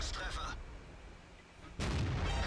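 Tank cannon shots boom in a World of Tanks-style battle, with the E-25 tank destroyer firing at a T1 heavy: a short burst of blasts at the start, a quieter rumbling lull, then another loud heavy report near the end.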